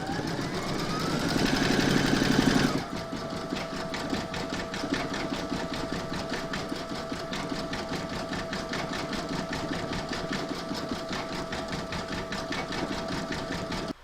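An embroidery sewing machine quilts part of a crazy patch in-the-hoop evening bag with a steady, fast, even mechanical stitching hum. A brief louder burst opens it, and the rest runs on unchanged.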